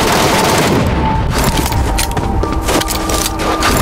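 Gunfire in the PUBG Mobile video game, loud rapid shots and booming bursts in a dense, continuous barrage with no voices.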